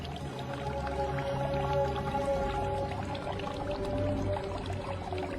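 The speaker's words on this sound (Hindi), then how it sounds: "एक बूढ़ी महिला दिखाई दी जो एक कुएं से पानी निकालकर जमीन पर डाल रही थी" Water drawn up from a village well is poured onto the ground as a steady, continuous splashing and trickling that holds at an even level throughout.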